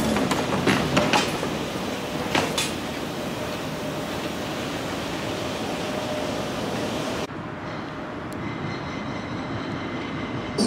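A train runs on rails with a steady, loud rolling rumble and hiss that fills the whole stretch, with a few brief higher squeals early on and a slight drop in brightness near the end.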